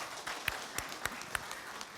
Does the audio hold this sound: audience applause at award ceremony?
yes